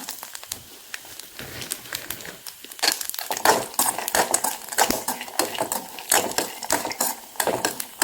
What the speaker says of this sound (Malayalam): ഇനി നമുക്കിതിലേക്ക് അണ്ടിപ്പരിപ്പ് ചേർത്ത് കൊടുക്കാം